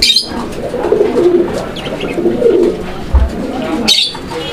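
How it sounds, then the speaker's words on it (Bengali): Soft, low Lahori pigeon coos repeat in a steady murmur at close range, with a few brief higher chirps over a background rustle. "এখানে একজোড়া লাহোরি কবুতরের কালেকশন রয়েছে"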